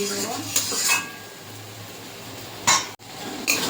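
Chopped tomatoes are stirred into a pan of chicken curry, or chicken kosha, with a metal utensil, producing scattered scrapes and clinks against the pan over a low background hum.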